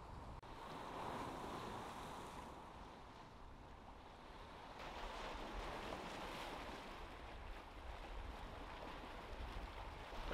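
Small waves on a fairly calm, slightly choppy Lake Erie at Crystal Beach, a soft continuous wash swelling gently, with wind noise on the microphone and no voices.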